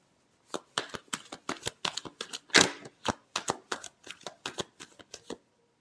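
Tarot cards being shuffled in a quick run of about twenty crisp riffling flicks, each a sharp papery snap, with one louder burst in the middle before the final flicks trail off.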